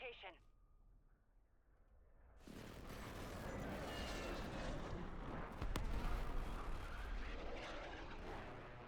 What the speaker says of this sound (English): cruise missile approaching